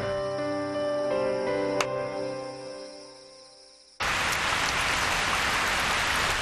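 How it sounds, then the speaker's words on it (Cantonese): A tuneful passage cuts off abruptly into a dense, steady roar of heavy rain that fills the final seconds. "真係估唔到今日會落咁大雨㗎。"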